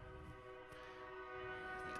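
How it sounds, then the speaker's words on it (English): A loud passing train blasts its horn in one long sustained blare with stacked harmonic tones, building slightly louder toward the end over rumbling rail noise, with no talking. "I think it gave birth to another train halfway through that horn sound"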